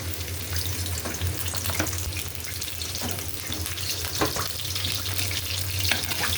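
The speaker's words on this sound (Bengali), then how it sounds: "তেলের মধ্যে পেঁয়াজটা একটু লাল হোক বেশ" Chopped onions frying in oil in a wok, a steady close sizzle with intermittent crackles and stirring scrapes, continuous and without voices.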